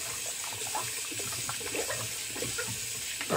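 Tap water runs steadily into a sink while a shaving razor is rinsed and emptied of hair after a wet shave, a continuous splashing wash with small clinks, close by and alone.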